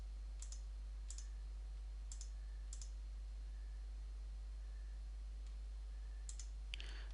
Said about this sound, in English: now I can move this around by just clicking the blue boxes